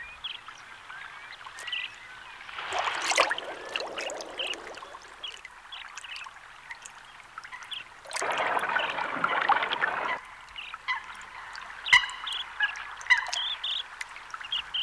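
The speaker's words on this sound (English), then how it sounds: "twice a year each pond is drained to net the fish" Water drains from a fish pond, pouring and gushing in two separate bursts, with quieter trickling and scattered bird calls in between.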